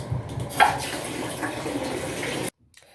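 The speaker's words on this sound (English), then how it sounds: "I'm going to rinse this out" Running water rinsing a child's hair, a steady close splashing wash with a small knock near the start, cut off abruptly into near silence for the last half second.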